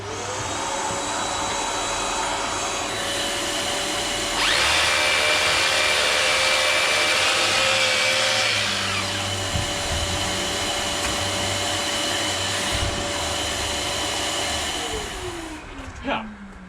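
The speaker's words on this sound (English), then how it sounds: "I'll just stick this back on, suck all the dust out" A vacuum cleaner runs continuously during electrical work, sucking up dust. It is loud and close and steady, with its pitch and suction shifting midway and then winding down at the end.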